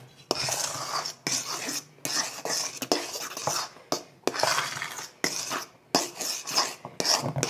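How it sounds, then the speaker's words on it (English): A spatula scrapes around a bowl while folding whipped cream into a cheesecake dessert filling, giving repeated raspy rubbing strokes in bursts with short pauses, close and fairly loud, with no talking. "Make sure you scrape the bottom, like the hide underneath the whipped cream."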